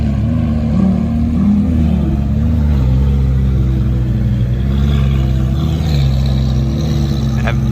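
Lamborghini Aventador SV supercar engine at a rally gathering on a racing school track, a loud steady low rumble with a slight rise in revs, continuous and close throughout.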